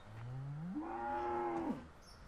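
A cow in the video game Farming Simulator 17 moos once on a dairy farm, a single long, clear low call that rises in pitch, holds, then drops off, close and alone.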